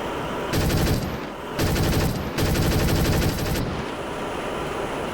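Bursts of 23mm cannon fire from a MiG-17F in the DCS flight simulator: three loud, rapid rattling volleys separated by short pauses, over steady jet engine noise.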